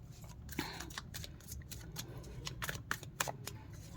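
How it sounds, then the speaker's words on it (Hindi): Tarot cards being shuffled by hand, a steady papery riffle with crisp repeated flicks and slaps for a few seconds, fairly soft and close. "तो चलिए कार्ड्स को शफ़ल करते हैं"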